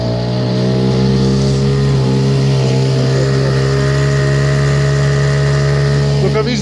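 A Parsun 5.8 outboard boat motor running steadily on the water, a loud, even, mid-pitched engine drone close by, with people talking over it.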